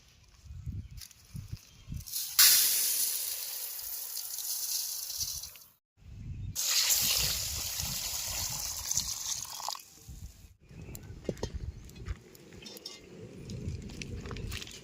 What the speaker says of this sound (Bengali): বিরিয়ানির চালটা কিছুক্ষণ জলে ভিজিয়ে রাখবো।